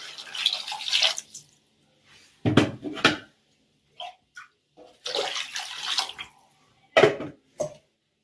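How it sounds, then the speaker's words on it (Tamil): Water is poured into a cooking pot of sautéed tomatoes and onions in a home kitchen, arriving in several separate splashing bursts with short quiet gaps between them. "இப்போ நான் நல்லா தண்ணி ஊற்றிக்கிறேன்."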